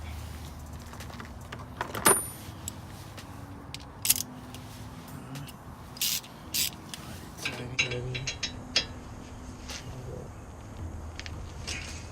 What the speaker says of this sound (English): I just try to tighten it up. Remember, you need a 19mm socket.